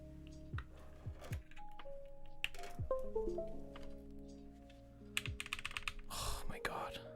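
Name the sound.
typing on a computer keyboard to test it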